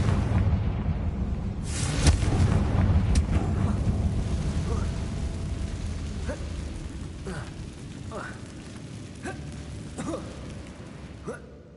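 Confringo fire spell blast in Hogwarts Legacy, an opening rumbling boom followed by scattered crackling game effects and a few faint bursts as the noise slowly dies down; a voice is faintly heard beneath.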